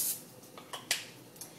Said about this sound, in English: Some nonstick spray in here.